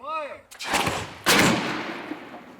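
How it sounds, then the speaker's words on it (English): Two heavy blasts from an air cannon firing 2x4 wooden boards at over 160 km/h into structures at Clemson University, each a sharp loud boom followed by a long fading rumble, the first preceded by a brief voice. "Schiff and his team at Clemson University fire 2x4s at more than 160 kilometers per hour into a variety of structures"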